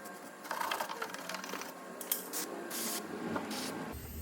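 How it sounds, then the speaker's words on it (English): Penetrating oil sprayed from a can onto the bolts of an Audi A4 B7 front lower suspension arm comes as a few short hissing bursts, with faint mechanical handling noises between them. "let's give everything a soak with penetrating oil"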